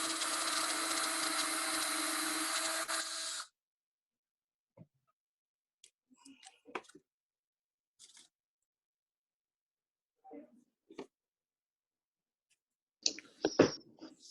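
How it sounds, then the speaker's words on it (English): A power drill whirs loudly into wood for about three seconds, then stops, leaving scattered quiet clicks and knocks. "gonna go big, go big, drill a hole"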